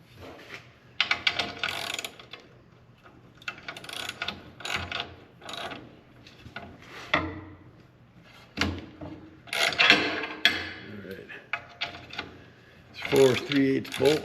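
Ratchet wrench tightening 3/8 bolts on an HD5 crawler in a workshop, with repeated bursts of quick close clicking separated by short pauses, metallic rattles between strokes.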